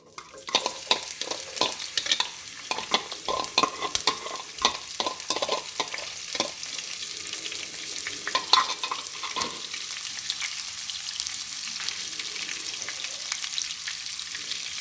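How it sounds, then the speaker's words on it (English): Freshly chopped garlic and red onions fry in oil, giving a crackling sizzle with clusters of quick pops and stirring scrapes early on, then settling into a softer steady hiss. "I'm going to add some freshly chopped garlic and purple or red onions."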